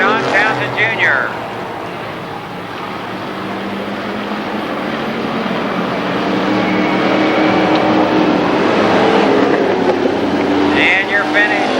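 Race cars at Columbus Motor Speedway roar across the finish line during a Labor Day championship event, a loud sustained engine drone swelling toward the end, with an announcer talking over it.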